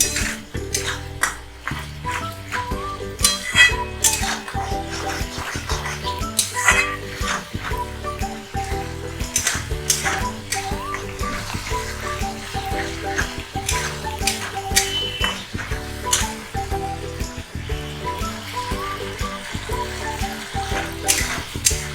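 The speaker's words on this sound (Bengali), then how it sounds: "এবার সসগুলো দিয়ে একটু ভালো করে কষে নেব।" Sauces frying and being stirred in a pan for chilli paneer gravy: continuous sizzle with repeated scraping and clattering of the spoon against the pan.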